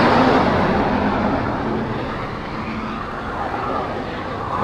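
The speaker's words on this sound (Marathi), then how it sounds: "गाड्या बघा काय स्पीडने चालल्यात ना" Cars speed along the Samruddhi Mahamarg expressway between Nagpur and Mumbai, producing a loud, steady broadband road roar that swells slightly at the start and stays close and continuous throughout.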